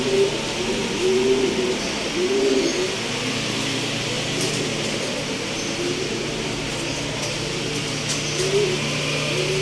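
Pigeons coo repeatedly in soft, rhythmic phrases at a bird loft, close by over a steady low background hum, with no talking.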